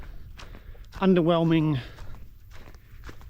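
Footsteps tap along at a walking pace on an island path on Waiheke, soft and regular, heard under someone briefly speaking.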